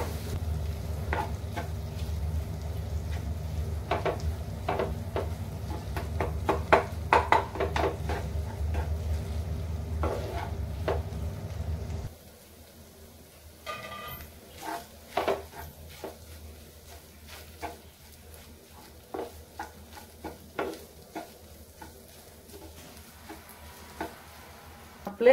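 Surmai fish khima sautéing in a pan, with a loud, steady sizzle for the first half that drops to a quieter sizzle, and irregular scraping and clinking from stirring throughout.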